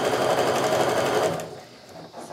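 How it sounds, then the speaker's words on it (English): A sewing machine stitches quilt block pieces with a fast, steady close-up whirring for over a second, then stops, leaving quiet handling noises. "So I'm going to sew down this line."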